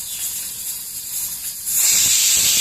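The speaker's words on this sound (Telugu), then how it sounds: "ఇంకా విజిల్ వచ్చింది, సిమ్ములో ఉంచుదాము." A pressure cooker whistle starts partway through, a loud sustained high-pitched hiss of steam that follows a quieter background hiss.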